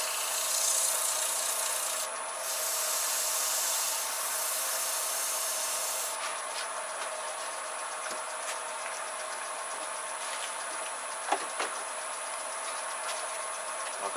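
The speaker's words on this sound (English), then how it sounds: "I'm just using 240 grit to finish this, so I don't want to be making too big of scratches in it." Steady rasping and rubbing of 240 grit sandpaper against a holly wood bowl spinning on a lathe, a continuous close abrasive hiss that eases slightly partway through, with no talking.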